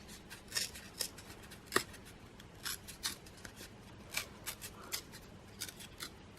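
Paper for a birthday card is torn in short, crisp rips and rustles, a series of close, quiet bursts spaced irregularly with no speech.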